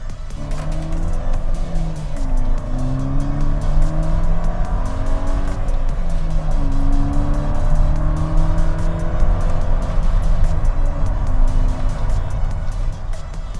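A VW MK6 GTI engine pulls hard at partial throttle, the exhaust note rising through the gears in repeated climbing sweeps, loud and steady from inside the car.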